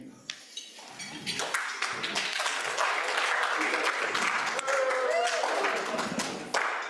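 Audience applause greeting a newscaster at a Rotary club gathering, a scattered patter of hands clapping through the room, with a voice talking over it.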